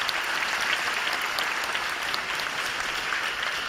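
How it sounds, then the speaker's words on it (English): Dense, steady applause from a large graduation crowd honoring the graduating class, continuous clapping throughout at an even, loud level with no talk on top. "Give them a round of applause."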